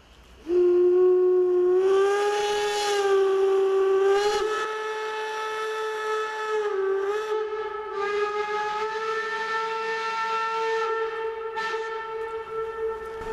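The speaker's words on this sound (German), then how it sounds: "Mit voll geöffneten Zylinderhähnen fahren die Dampfloks jetzt ab." Steam locomotives depart with fully open cylinder cocks, led by a long, loud, sustained steam whistle that holds for many seconds over a steady hiss of escaping steam.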